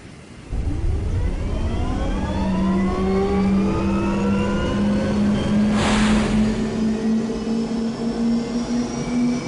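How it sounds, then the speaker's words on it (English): An F-16 fighter jet engine spools up for takeoff in a video game, a loud, steady roar with rising whining tones that swell and brighten, a brief surge of hiss midway, then a sustained powerful drone. "You are cleared for takeoff, runway 9, winds calm, contact departure"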